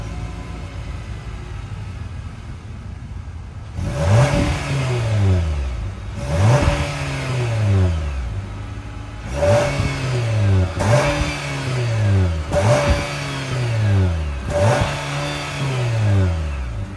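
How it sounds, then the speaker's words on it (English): The 2-liter four-cylinder engine of a 2023 Nissan Sentra SR idles quietly, then revs sharply five times in a row, each rev rising and falling back toward idle, close and fairly loud. "that was the sound of the 2-liter 4-cylinder sold by Nissan for the 2023 Sentra"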